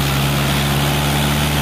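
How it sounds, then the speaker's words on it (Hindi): Mahindra 575 and Powertrac Euro 47 tractors in a road race, one engine revved hard to about 3500 rpm, a loud, steady, droning diesel roar with a strong low hum and no speech. "हमारे ट्रैक्टर के चक्कर बहुत ज्यादा खुले हुए लगभग 3500 के आसपास।"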